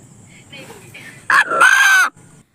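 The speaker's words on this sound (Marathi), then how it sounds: "अण्णा या नावाने हाक मारणारा चक्क असा एक कोंबडा आहे" A rooster crowing in a farmer's poultry coop, a single loud, strained crow lasting under a second with a sharp opening note, following faint background sounds and quieter vocal noises.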